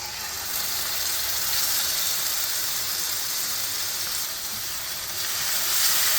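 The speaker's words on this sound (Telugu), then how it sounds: "బాగా ఫ్రై చేసేసుకోవాలి" Tomato paste frying in oil in a pan for a dhaba-style baby potato dum aloo curry, giving a steady, broad sizzling hiss that holds evenly and close without pause, no voices over it.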